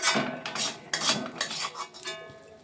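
Food is served onto a bhog offering plate in a home kitchen, with a quick run of light clinks, scrapes and taps of dishes and utensils, fairly quiet and close, with no talking.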